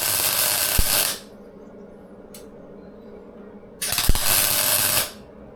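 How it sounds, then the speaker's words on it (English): Tack welding on a gas bottle mount for a Land Rover Defender 110 camper produces two loud, harsh buzzing bursts of about a second each, separated by a quiet gap. "Just going to put a quick tack on there and a tack on there, pull it off, weld it up."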